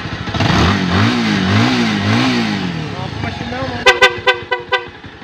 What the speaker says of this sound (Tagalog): Ating napandar na ho ang 220cc ito na Kawasaki.